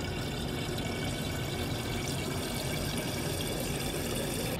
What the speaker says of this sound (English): now I'm gonna fill it with water